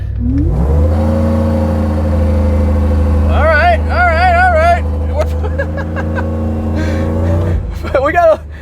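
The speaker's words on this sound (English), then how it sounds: "We did a little burnout. It was pushing through the brakes quite a bit there." A supercharged Chevrolet Suburban on a 305 rear tire does a burnout against its brakes, its engine droning steadily and then revving hard in rising and falling surges, with a short spoken remark near the start.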